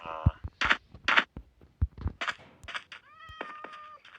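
A cat meows several times in short, clear calls in Minecraft, mixed with game sound effects and a brief electronic tone sequence near the end.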